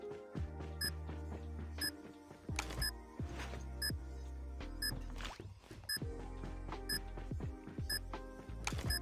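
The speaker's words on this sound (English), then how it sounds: "Bomb has been planted." A planted bomb in a first-person shooter beeps at regular intervals, small bright repeated tones over busy game sounds with thuds, shots and electronic music, no talk.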